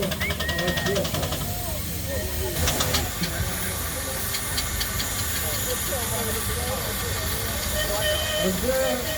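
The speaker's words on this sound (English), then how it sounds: "these are real working steamers. And those two are working on pressure" Working steam traction engines under pressure at the Netley Marsh Steam & Craft Show 2024 give off a continuous loud hiss and mechanical rumble, with faint clanks and outdoor crowd chatter mixed in.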